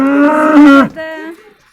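A dairy cow at the Tokmok livestock market lets out one strong, nearby moo lasting under a second, followed by quieter lowing or a softer call in the background.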